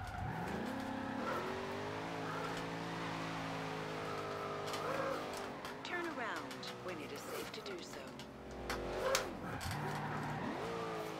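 A car in the racing game Forza Horizon 2 drones and revs through gear changes with bursts of tire squeal while someone talks over the engine throughout.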